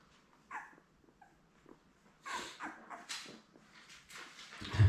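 Ten-day-old Labrador puppies give faint, high whimpers and small yips in scattered bursts, close to the microphone in a quiet room, growing a little busier toward the end.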